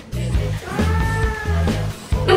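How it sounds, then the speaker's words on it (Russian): A pregnant cat meows insistently, several drawn-out cries close by over a steady low background rhythm. "Ну почему ты мяукаешь?"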